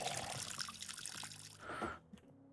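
Water is poured in the video game Schedule 1, a short close trickle and splash that fades out after about two seconds, with no talk over it.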